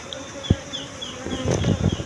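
A low, droning hum of honey bees buzzing nearby, with some rustling and soft knocks rising toward the end.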